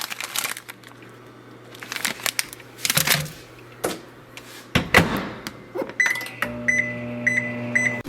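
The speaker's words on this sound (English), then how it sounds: "all you do is throw them in your microwave for a couple of minutes" A microwave oven heats a frozen breakfast sandwich, its steady low hum running under clattering, crinkling packaging and door clunks, then a series of high electronic beeps near the end.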